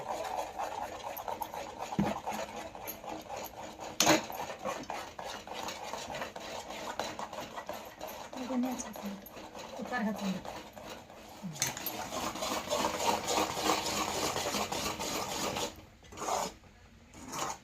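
Semolina being stirred into sugar syrup in a pan with a metal spoon, a continuous scraping and rasping against the pan with occasional sharp clinks and a brief sizzle, ongoing for the whole stretch.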